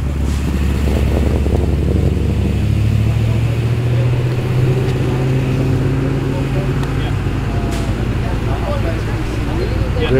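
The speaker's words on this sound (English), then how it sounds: "Mustang GT taken off. And the BMW's going as well." A Ford Mustang GT and a BMW pull away from a car show in Villawood, Sydney, engines rumbling steadily and loudly nearby with a rising tone as they drive off, while someone talks over them.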